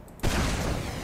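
A single heavy rocket launcher blast in Team Fortress 2 hits suddenly and loudly, then rolls on as a dense booming rumble for the rest of the moment.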